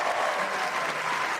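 A crowd at Wimbledon applauds, a dense patter of clapping at steady volume that fills the brief moment without talk.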